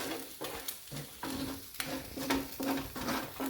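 Squid being pushed to the edge of a sizzling seafood paella pan: rhythmic scraping strokes of a utensil across the pan over a steady close sizzle, about eight passes in quick succession.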